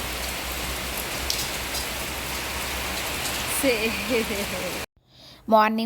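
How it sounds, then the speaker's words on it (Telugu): Steady rain pours down in a dense, continuous hiss, with a voice briefly speaking over it near the end. "వర్షం పడుతుంది"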